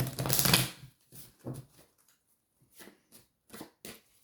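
Oracle cards are shuffled in a few short, quiet bursts of riffling and sliding, one louder flurry at the start followed by brief scattered shuffles.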